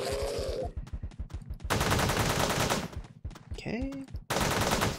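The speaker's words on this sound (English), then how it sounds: "Oh, that's my handgun." Handgun fire in the top-down shooter Teleglitch comes in rapid bursts of sharp, loud shots separated by brief gaps, with a short voice heard briefly.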